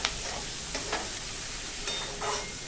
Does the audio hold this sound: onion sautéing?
yes